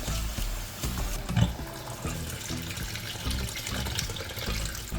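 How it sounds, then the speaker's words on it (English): Raw beef for a Jamaican stew being rinsed under a running kitchen tap, a steady close stream of water splashing with soft handling clatter, fairly quiet and without talk. "I'm gonna just wash my meat."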